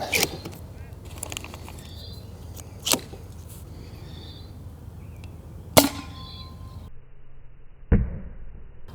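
A Nerf pistol fires darts that strike a tree target outdoors: three separate sharp snapping hits spaced a few seconds apart over a quiet, faintly rustling background.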